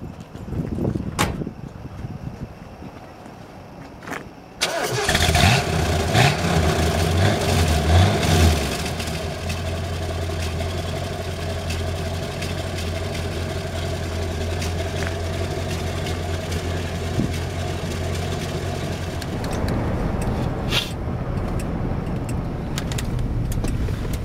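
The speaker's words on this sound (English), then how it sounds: "And of course the dual exhaust, which you'll hear momentarily." A 1973 Ford Thunderbird with dual exhaust cranks and fires up, revs briefly, then settles into a steady, loud, deep idle close by.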